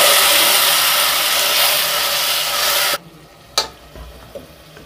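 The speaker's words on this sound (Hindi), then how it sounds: "यहाँ पे अब हमने इसके अंदर अपने टमाटर जो है वो ऐड कर देंगे" Loud, steady sizzling of ginger and garlic frying in a pan for about three seconds, then cut off sharply as tomatoes go in, leaving a quiet hiss with a couple of soft clatters.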